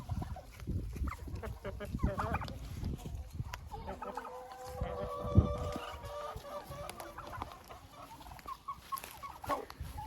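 Young hens cluck and murmur close by in a poultry yard, soft overlapping calls rising and falling continuously, with some rustling and scratching among them.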